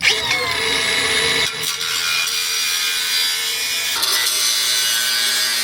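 A 4.5 to 6 inch braking angle grinder, model 3672-18, cuts through steel frame horns on a third-generation 4Runner, giving a loud, harsh, continuous whine with two brief dips, and no talking.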